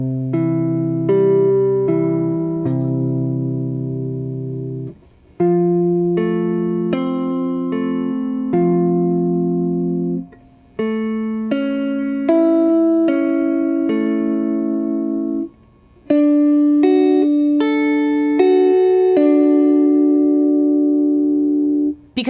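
A guitar plays major triad arpeggios, picking single notes in steady, even ascending and descending runs across the strings. The phrases repeat in several groups with brief pauses between them, clear and alone.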